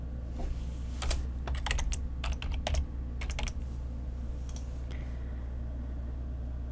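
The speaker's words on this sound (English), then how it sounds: "If we type column in here" Fingers tapping a computer keyboard while entering VBA code in Excel, short clusters of quick keystrokes separated by pauses, close over a steady low hum, no talk.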